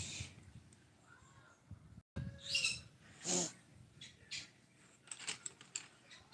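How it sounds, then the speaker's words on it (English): Pet birds chattering and calling in the background of a quiet room, a few scattered squawks and chirps, faint and intermittent, with some louder bursts midway. "You can kind of hear my birds in the background just chattering away"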